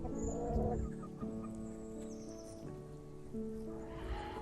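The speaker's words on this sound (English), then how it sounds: "These are the little chicks, they're getting bigger now." Chickens and young chicks cluck and peep faintly, a mix of low clucks and thin tonal calls at moderate distance, running continuously without talking.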